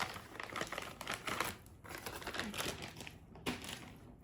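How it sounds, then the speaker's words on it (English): Cellophane wrapper being peeled off a cigar, close crinkling and crackling plastic in irregular bursts with short pauses, fairly quiet and without talk. "I will take the cellophane off because you can't see that."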